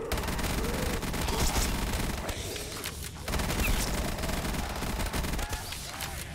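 In a zombies gun game, guns fire rapid bursts of gunshots that go on almost without a break, loud and busy, with a short lull partway through.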